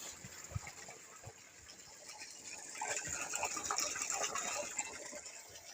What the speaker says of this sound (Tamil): பாருங்கள் தண்ணி எவ்வளோ தண்ணி போகுது பாருங்கள்.